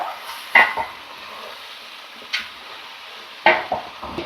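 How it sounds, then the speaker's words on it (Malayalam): Chicken is stirred into frying onions in a pan for chicken curry, with a soft background sizzle and three distinct scraping clinks of the utensil against the pan spaced across the stretch. "ഇനി ചിക്കനും കൂടി ചേർത്ത് നന്നായിട്ടൊന്ന് മിക്സ് ചെയ്യുവാണ്."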